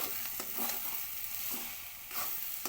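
Mixed vegetables coated in a flour and gram flour batter sizzle steadily in a hot pan, with soft stirring scrapes recurring at intervals, close and fairly quiet throughout.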